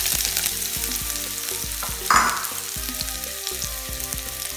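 Chopped onion and mustard seeds fry in hot oil in a pan for devilled chickpeas, with a constant close crackling sizzle and one brief louder stirring scrape midway, and no voices.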